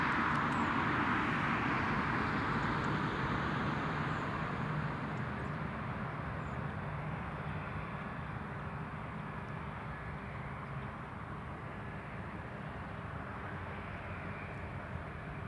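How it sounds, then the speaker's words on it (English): A KLM Embraer E195 E2 airliner arrives at Newcastle International Airport, its broad engine roar loudest at the start and slowly fading as it passes, heard from a distance without talk. "Sorry, it's KLM's Embraer E2."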